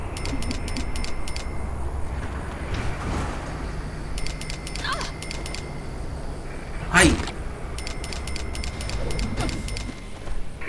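Freeway traffic in the game Saints Row IV rushes past in a continuous road hum, with sharp metallic impacts and jingling effects as cars strike the player character, while people talk throughout.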